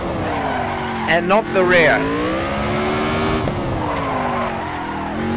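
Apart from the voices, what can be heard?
car tyres skidding as front wheels lock under braking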